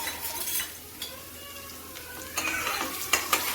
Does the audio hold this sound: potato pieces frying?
yes